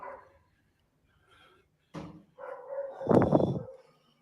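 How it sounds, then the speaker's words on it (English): Dogs barking somewhere nearby, a few scattered short barks and yips building to a louder, denser burst near the end, set against otherwise quiet surroundings with no talking. "I hear dogs."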